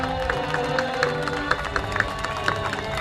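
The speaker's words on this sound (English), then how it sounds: "Give them a round of applause." Audience applause and scattered cheering at a school kindergarten and 6th grade promotion ceremony, a steady crowd clapping with a few sharper claps standing out, faint talk underneath.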